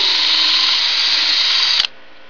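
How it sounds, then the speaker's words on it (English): A power drill whines loudly and steadily, boring a hole into the wooden side of a birdhouse for under two seconds before stopping abruptly. "the last little step is to just drill a hole in the side"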